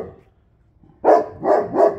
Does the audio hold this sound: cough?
no